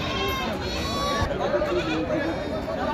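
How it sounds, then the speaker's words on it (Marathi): Goats bleat at a busy goat market, with several wavering calls overlapping against a dense crowd background, and people talk throughout. "दुधाची शेळी आहे"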